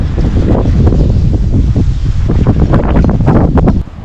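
Strong wind on a job site near water, loud buffeting gusts roaring across the microphone almost continuously before easing off suddenly at the very end.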